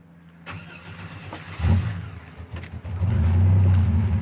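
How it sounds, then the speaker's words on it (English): A 1987 Buick Grand National engine cranks over and catches, rising into a loud, close low rumble that settles into a steady, strong idle. "It starts easy."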